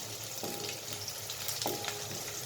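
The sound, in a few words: stir-frying water spinach in a pan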